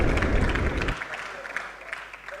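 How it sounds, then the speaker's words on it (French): A studio audience claps for a show's sponsor, a short burst of applause that drops off sharply partway through, leaving scattered fading claps. "Est-ce qu'on peut applaudir pour RTL, s'il vous plaît,"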